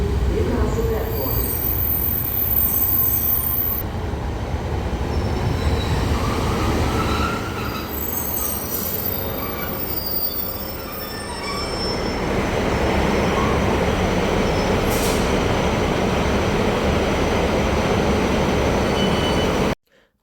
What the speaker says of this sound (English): 156, arriving at Sunderland Station, heading south to Saltburn.